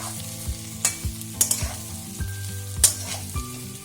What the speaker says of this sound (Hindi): और इसे हमें मध्यम आंच पे भूनना है।